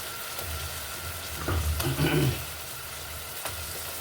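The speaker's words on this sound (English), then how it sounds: "I'm gonna drop this fish so it will go on. I want the fish to be fried with that flavor" Smoked salmon frying in a pan for plantain porridge, a soft steady sizzle with a brief stirring scrape in the middle, close and quiet, no talk.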